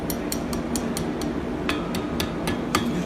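Hammer striking metal on an anvil while curling a small metal elf's hat, a steady series of sharp, ringing clanks at a regular pace over a continuous low hum.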